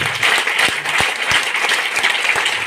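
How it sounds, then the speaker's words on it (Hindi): Loud, dense applause from a seminar audience presenting a business plan fills the whole stretch, steady and close, with a few sharper claps standing out and no talk over it. "एक बार और जबरदस्त वाली ताली बजाइए।"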